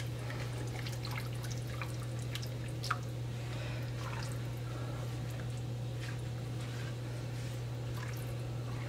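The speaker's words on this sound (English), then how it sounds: "Stir it up good." Homemade enchilada sauce being stirred in a pot, giving soft wet drips and small squishing sounds at close range over a steady low hum, with no talking.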